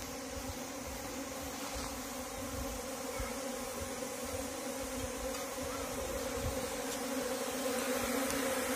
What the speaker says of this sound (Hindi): ये देख सकते हैं आप सारी मधुमक्खी वापस आ रही है।